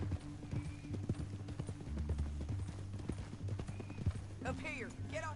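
A horse gallops in Red Dead Redemption 2, its hooves pounding out a steady, close clip-clop that runs throughout, with a brief neigh near the end.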